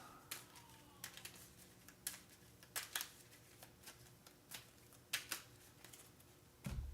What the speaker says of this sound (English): I do need to give all of these decks a quick shuffle